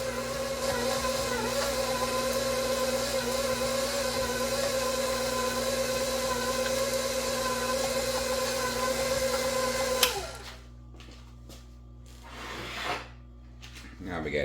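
Electric mixer blending butter, eggs and sour cream for a pound cake batter, a steady loud whirring drone that runs continuously before cutting off abruptly, leaving quieter kitchen clatter afterward.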